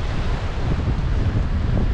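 Strong wind blows near a beach in Cebu during heavy rain, a constant loud roar buffeting the microphone and mixing with the wash of surf, with no pauses.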